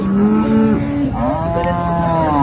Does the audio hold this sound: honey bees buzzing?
no